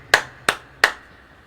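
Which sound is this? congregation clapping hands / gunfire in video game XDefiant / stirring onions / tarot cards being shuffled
congregation clapping hands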